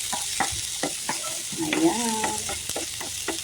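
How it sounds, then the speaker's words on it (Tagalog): Garlic, onion and tomato sautéing in a little oil in a pan, a soft continuous sizzle broken by repeated scraping stirs, close and fairly quiet, with a brief spoken word. "Gisa natin ang ating bawang,"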